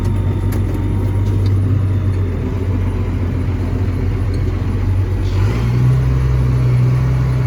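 A John Deere 7600 tractor's engine runs steadily in reverse, a loud continuous low rumble close by that shifts to a slightly higher, heavier drone partway through.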